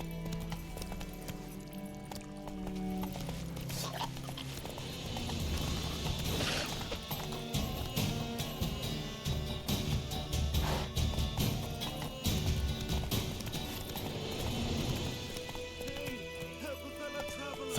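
Roach the horse galloping in The Witcher 3, a steady, fast clip-clop of hooves running for many seconds under a dense bed of game music and ambient sound.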